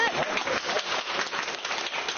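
Hospital staff applaud as a patient with chronic illnesses is discharged, producing a fairly quiet, dense patter of many hands that runs steadily throughout, with faint voices mixed in.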